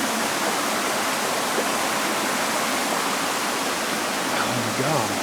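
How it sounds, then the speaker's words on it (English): A fast, loud river waterfall roars as a steady, dense wash of rushing water close by, filling the scene without a break. "you can't tell from this waterfall back here, but The water is so fast. It's loud right now"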